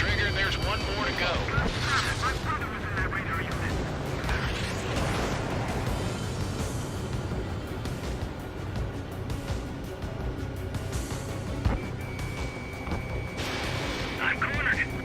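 Jet combat in Ace Combat 7 with missile launches and gunfire: a dense, continuous roar of engines and rapid fire, with whooshing bursts throughout and radio voices talking over it.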